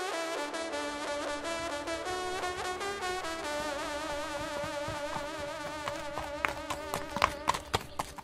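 Quick, regular hoofbeats of a galloping horse under a sustained brassy hunting horn, with the hoof strikes growing sharper toward the end.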